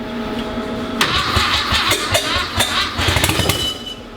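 A 13B rotary engine swapped into a VW Super Beetle cranks and fires up, catching after a second into a loud, raspy, uneven running note with choppy pulses close by.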